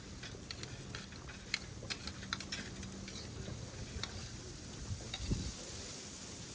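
Appalam (papad) frying in hot oil gives a continuous crackling sizzle with scattered sharp pops and ticks, close and moderately loud.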